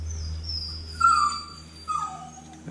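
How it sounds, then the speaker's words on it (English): An upset puppy whimpers in a workshop during a cylinder install, giving two short, high, plaintive whines, moderately close with no speech. "I seem to have an upset puppy here."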